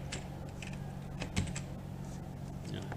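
Someone types a Linux package install command on a computer keyboard while setting up a Debian 10 virtual machine: a quick run of soft, close key taps with one sharper press midway.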